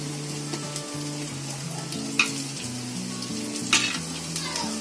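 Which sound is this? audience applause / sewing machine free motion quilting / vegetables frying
vegetables frying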